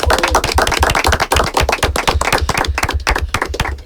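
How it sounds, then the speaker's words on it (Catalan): Live audience at a Catalan comedy podcast recording clapping hard and close, a loud, rapid, rhythmic run of sharp hand claps that keeps going with no one talking over it. "Un fort aplaudiment pel públic!"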